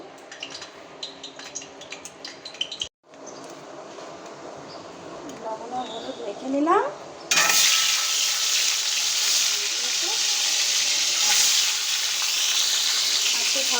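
Shelled boiled eggs fry in oil with a faint sizzle at first, then a loud, steady crackling hiss takes over and holds; a voice speaks briefly midway.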